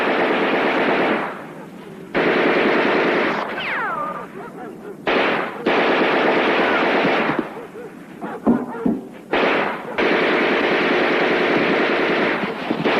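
Loud rapid gunfire from a western film, long bursts of automatic-sounding shots broken by short pauses, with brief voices and other noises in the gaps.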